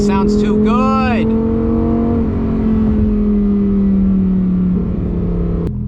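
Lamborghini Huracan Tecnica engine, a loud sustained drone that rises in a short rev at the start and then holds a steady, slowly falling tone, close and continuous.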